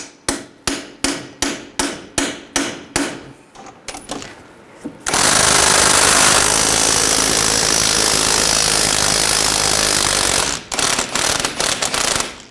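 Steel hammer blows drive an 18mm socket onto a rusty nut on a 2003-2008 Subaru Forester rear suspension knuckle: about ten sharp, evenly spaced metallic strikes, then a long loud whirring burst from a power tool, with a few more taps at the end.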